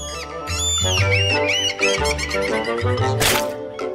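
A bird chirping nearby in a run of high, sweeping tweets and trills, layered over a steady low drone.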